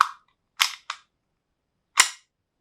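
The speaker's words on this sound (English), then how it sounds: "if you watch as I pull the slide back, this bit will drop down and the front barrel will raise up slightly" Army Armament R17 pistol slide pulled back, heard as a few sharp, crisp metallic clacks: one short snap at the start, a close pair about half a second later, then a single louder clack after a pause, all near and alone.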